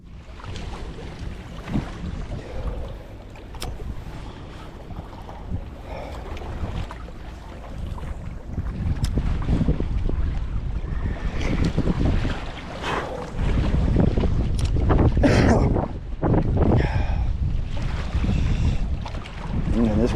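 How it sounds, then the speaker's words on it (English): Strong gusting winter wind buffets the microphone while fishing, roaring louder in the second half, with water sloshing nearby. "This wind ain't no joke today, y'all, to say the least."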